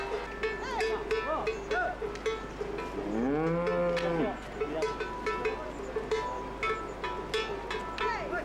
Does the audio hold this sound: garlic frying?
no